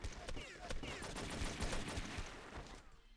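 AK rifle gunfire in the video game True Crime: New York City: bursts of automatic shots mixed with sharp single cracks and clatter, moderately loud, with faint game sounds around them.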